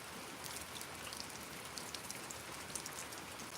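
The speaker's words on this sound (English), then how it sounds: "it's raining out here on us. This tin roof, it'll put you slam to sleep" Steady rain falls on a tin roof outdoors in Mississippi, giving a dense, even hiss of drops with scattered brighter pattering taps and no voices.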